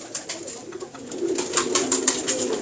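A Sadhna breed pigeon, from Ustad Habeeb Mughal's stock, coos close by in a run of soft repeated calls with bright chirpy edges, heard alone without any talk.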